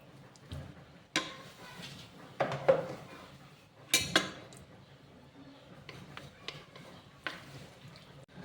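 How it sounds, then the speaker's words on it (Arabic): Cheese is mixed into a scallop dish in a pan, giving a handful of close spoon clinks and scrapes against the metal, spaced out over quiet background hum. "خلط مليح هذاك الفرماج ندخلو مليح في هذا السكالوب"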